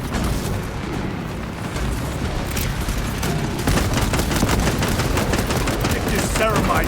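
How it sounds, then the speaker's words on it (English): Frag grenade and gunfire in the video game Warhammer 40K Space Marine 2, with dense, continuous bursts of rapid shots and heavy impacts growing louder toward the end; a voice also comes through. "Deploying frag grenade."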